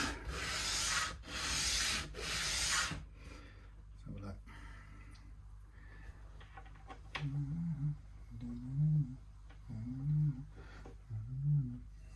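Wooden nut of a Fender 3/4-size classical guitar being filed, with a few loud rasping strokes at first, then quieter scraping and rubbing passes, close up and mostly without talk.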